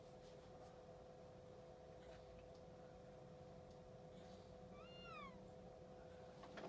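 A cat in the video game Chrono Trigger gives a short rising-falling meow near the end, faint above a steady background music drone.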